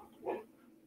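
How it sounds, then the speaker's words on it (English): A single short, muffled dog bark comes from somewhere indoors out of sight, faint and slightly distant against a quiet background. "is in there barking at something."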